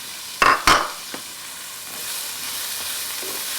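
Onion softening in a pot for a pumpkin soup, two sharp clanks of stirring up front, then a steady gentle frying hiss that carries on alone.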